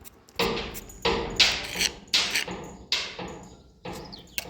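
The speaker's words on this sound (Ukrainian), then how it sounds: "Начав молоточком обстукувати і от." A small hammer taps the rusted-through rear axle of a Kia Sorento in a series of sharp, ringing strikes, about six blows at an uneven pace, close by with no talking.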